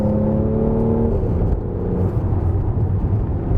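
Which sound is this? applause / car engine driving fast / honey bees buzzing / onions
car engine driving fast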